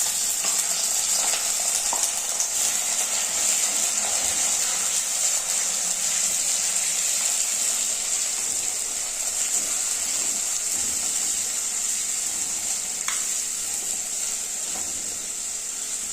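Thinly sliced small onion frying in a pan while making mackerel curry with coconut milk, a steady close hiss and sizzle running throughout with faint stirring clicks.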